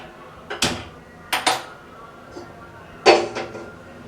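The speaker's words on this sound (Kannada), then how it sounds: "ಇವಾಗ ಒಂದು ಪಾತ್ರೆನ ಬಿಸಿ ಮಾಡೋಕ್ಕೆ ಇಡೋಣ." A metal cooking vessel is set down on a stove for heating, giving three sharp clanks spaced over a few seconds against a quiet kitchen background.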